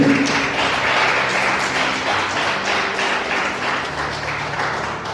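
A church congregation claps loudly at an evangelical service, a steady wash of many hands with no talking.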